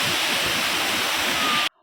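Kodiveri Waterfall in Erode District, Tamil Nadu, roaring as a steady, loud, broadband rush of falling water that cuts off abruptly near the end.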